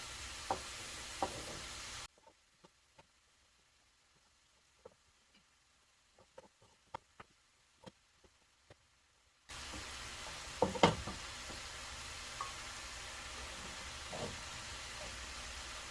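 Green beans and mixed vegetables being stir-fried in a pan, a steady sizzle with clinks of stirring, dropping to near silence midway with a few faint knocks before the frying sizzle returns.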